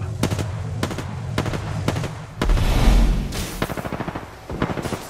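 Rapid bursts of automatic turret gunfire in Apex Legends, a loud cluster of repeated shots with a heavier boom in the middle, then more fast stuttering rounds.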